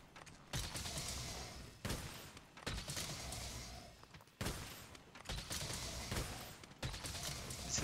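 Heavy bowgun firing normal ammo in Monster Hunter, five loud, dense blasts spaced roughly every second or two, each with a sustained mechanical rumble between shots and no voices.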